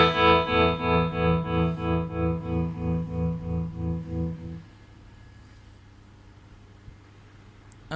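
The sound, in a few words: guitar through tremolo effect at high speed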